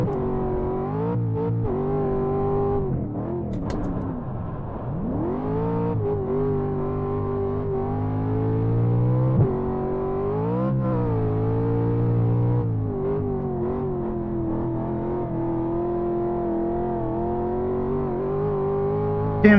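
A racing truck engine in iRacing, a steady, loud, buzzing drone close up that rises and falls through revs and gear changes during a lap, with no talking.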